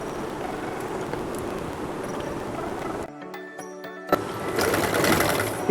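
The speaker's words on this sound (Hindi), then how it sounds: "नेफ़े का जो ये दरमियान का हिस्सा है हमने इसकी सिलाई करनी है" A sewing machine stitches the middle section of a trouser waistband, running in a steady rapid chatter, pausing about a second for clicks of handling, then starting again loud and close.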